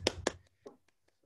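Scattered clapping from a few people unmuted on a video call after a demography talk, two sharper claps up front, then a handful of quieter taps trailing off into near silence.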